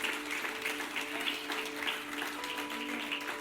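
A church congregation claps in praise during a Spanish-language worship service, a steady moderate applause with a sustained musical tone underneath throughout.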